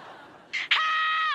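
A person screams a single short word in a sudden, loud, strained shout lasting under a second, following a brief murmur of voices.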